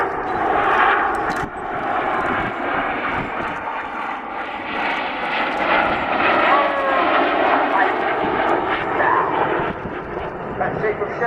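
Red Arrows jets fly in formation at the RIAT 2015 airshow, their engines making a continuous distant roar that rises and falls, while a commentator talks throughout.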